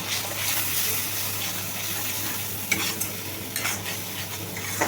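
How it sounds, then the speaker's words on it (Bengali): Tomato, green chili paste, turmeric, cumin and salt being stirred and sautéed in a pan on medium flame, a continuous wet frying hiss with scraping spoon strokes and a few sharper clinks near the end. "এবারে কষিয়ে নেব"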